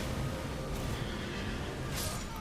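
Horse whinnying in the Elden Ring: Shadow of the Erdtree game, a steady mid-loud neigh over continuous ambient game noise, with a brighter cry near the end.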